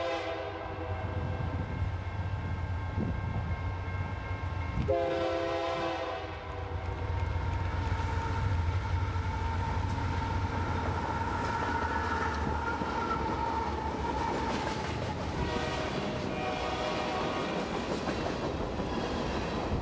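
An empty ethanol freight train led by a Union Pacific C44-60AC locomotive rolls north past the Southern Railway Princeton Depot, sounding loud horn blasts over a heavy rumble, then wheels clattering steadily along the rails.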